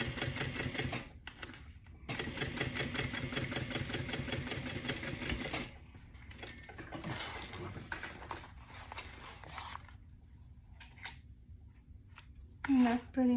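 A sewing machine stitches a Georgina convertible tote bag in steady, rapid bursts, running loud for several seconds, pausing, then restarting in shorter runs, with a voice talking briefly near the end.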